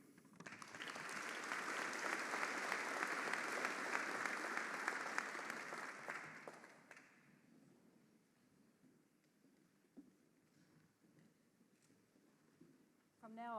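University graduation ceremony audience applauding, a dense burst of clapping that swells quickly, holds steady for about six seconds, then fades away into quiet hall ambience.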